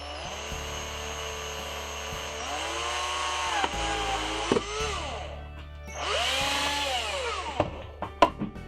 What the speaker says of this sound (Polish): Biorę wkrętarkę i delikatnie zaczynam nawiercać.